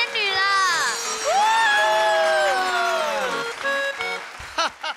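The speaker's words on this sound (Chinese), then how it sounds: "来，掌声！" A studio audience at a televised variety competition cheers and whoops loudly and close, with rising and falling voices and a few quick claps near the end.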